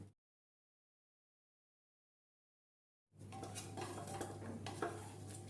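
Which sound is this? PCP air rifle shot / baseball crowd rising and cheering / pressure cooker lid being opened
pressure cooker lid being opened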